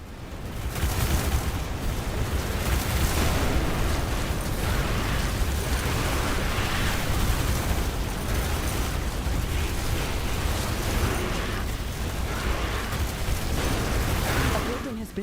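Buildings, walls and defenses blowing apart in the video game Riftbreaker, a dense continuous roar of blasts and crumbling debris sustained at steady loudness.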